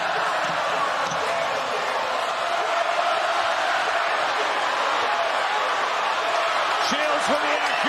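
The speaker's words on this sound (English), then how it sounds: "And listen to the crowd." The crowd at a women's boxing arena roars in a steady wash of cheering that never lets up, with a commentator talking over the din.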